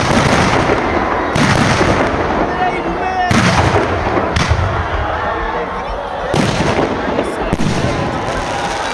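Eco-friendly green aerial firework shells bursting at a KTPP fair, a series of loud booming thuds with crackling, each burst spaced a couple of seconds apart over steady crowd noise.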